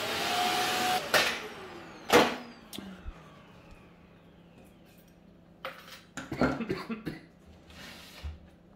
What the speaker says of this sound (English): I'm just going to hoover up the mess I've made.